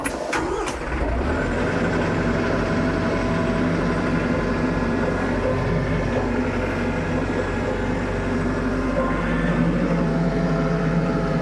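A tractor engine runs steadily at close range during a hydraulic cylinder teardown, a continuous low rumble with a brief clunk at the start and no voices.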